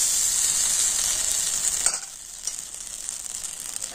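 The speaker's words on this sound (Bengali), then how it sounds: "তো আবার আমি 1 হাতা ব্যাটার নিয়ে দিয়ে দিচ্ছি।" Rice-flour batter for chitoi pitha goes into a hot pan with a loud steady sizzle that suddenly drops to a quieter crackle partway through, with a few small clinks, no voices.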